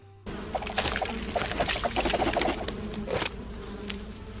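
A dense, steady buzzing of many bees swarming close by in a video game, continuous and loud with no talking.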